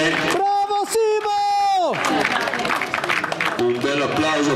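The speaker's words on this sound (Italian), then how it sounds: "Un bel applauso a questi ragazzi" Spectators at the Vaprio Cimamulera memorial race applaud young runners, steady crowd clapping and cheering following a sustained tone and a voice over the loudspeaker.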